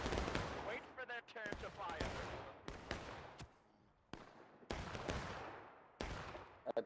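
Musket volleys crack out in War of Rights, the Civil War game, on the Otto & Sherrick map: sharp repeated shots at close and middle range, some overlapping, with a little talk mixed in.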